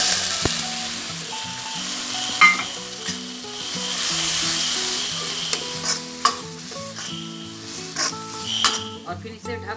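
Ginger, garlic and masala fry in a pan with a steady close sizzle, broken by frequent scraping and clinking as a spoon stirs against the metal.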